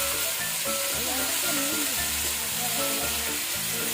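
Onions frying in a pan of hot oil for a meat curry, a steady close sizzle with intermittent stirring scrapes, no voices.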